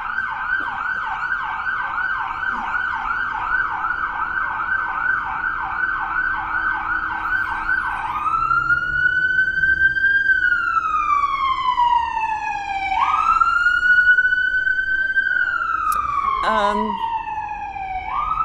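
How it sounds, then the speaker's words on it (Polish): An ambulance siren wails past on a city street, starting with a rapid warble and switching to long rising-and-falling sweeps, loud and close, with a passing vehicle rumble underneath. "O, jakaś karetka tutaj jedzie."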